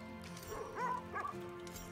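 Dogs in the video game The Red Lantern bark a few times at feeding time, short yips close by over a steady game music bed.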